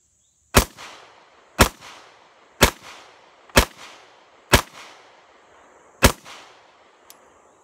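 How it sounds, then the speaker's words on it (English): A stainless steel WWII Luger pistol fires six sharp, loud shots in quick succession, about a second apart, each with a short echoing tail. A faint click follows at the end. "See what I can do with a little rapid fire with the last of my rounds here."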